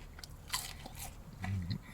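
A crunchy french fry is bitten and chewed close up outdoors in freezing winter cold, giving a few sharp crisp crunches followed by softer chewing sounds, with no talking.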